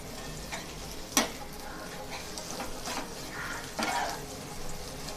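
A spoon stirs salted beaten egg in a pan, bhurji-style, over a faint steady sizzle, with soft scraping strokes and a couple of sharper clinks against the pan.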